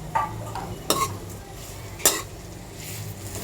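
Dried shrimp being stirred into frying oil for an eggplant curry, with a low sizzle under three sharp clanks of a spoon on the pan, close and without talk.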